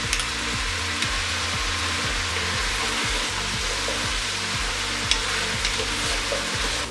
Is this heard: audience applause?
no